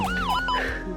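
An ambulance siren wails in rising and falling sweeps, loud and close, sounding alone with no talk over it.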